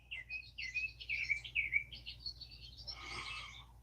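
Birds chirp at dawn in a run of high, quick, warbling tweets, fairly faint and close, ending in a brief busier burst of calls over a low steady hum.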